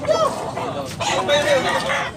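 A gold bullstag rooster with yellow legs crows loudly and close by in a drawn-out call, with clucking from other fowl and someone talking throughout.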